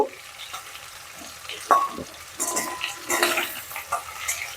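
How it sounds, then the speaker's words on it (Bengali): Potatoes stirred and fried in a pan give a close sizzle with scraping spatula strokes and occasional metallic clinks, repeating in short bursts. "আলুগুলো একটু নেড়ে ছেড়ে একটু লাল করে ভেজে নেব"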